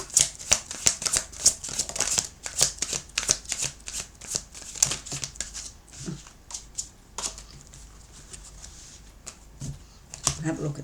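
Tarot cards shuffled in quick riffling bursts close up, several rapid flurries, then sparser slaps with a voice talking over part of it.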